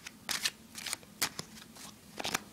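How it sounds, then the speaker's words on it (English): Playing cards riffle and slap in short crisp bursts during a false overhand shuffle, several quick clusters of papery flicks close to the microphone, with no talking. "You could do, this is a real good move, a false overhand shuffle."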